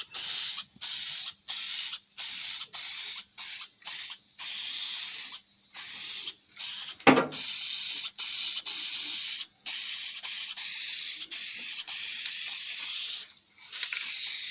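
A spray gun coats the lower skin of a Ford XC Fairmont GXL front door, sealing bare metal and rust-converted areas: a loud, close, steady hiss in repeated bursts of one to two seconds, broken by short pauses, with no talk.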